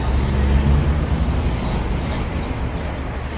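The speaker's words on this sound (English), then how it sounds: "The policemen held back the traffic so Mrs. Mallard and the ducklings could march across the street." Street traffic sound effect on a city street near Beacon Street, with a steady low rumble of passing vehicles and a faint high whine, continuous and moderately loud throughout, with no voices.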